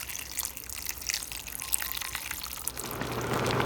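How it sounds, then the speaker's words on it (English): Crab broth poured into a pot of budae jjigae makes a steady splashing, trickling stream that grows louder and fuller toward the end, close by with no talking. "I'm just going to start pouring the broth over this."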